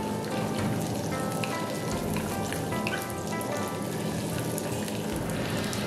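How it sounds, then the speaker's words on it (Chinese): Garlic sprouts and cowpeas stir-fry in hot oil, giving a loud, dense, continuous crackling sizzle that stays steady from start to finish. "起锅烧油，下入蒜苗炒香， 炒香后下入豇豆，"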